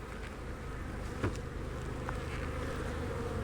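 Honey bees swarm around an open, heavy hive box during a beekeeping inspection, producing a steady, dense buzzing hum throughout, close and continuous with faint handling knocks and no talking.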